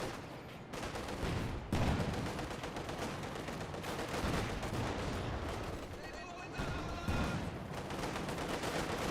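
Battle sounds from Company of Heroes 2 during a Panzerfaust firing, with dense overlapping gunfire and explosive bursts at a steady loud level, under ongoing commentary.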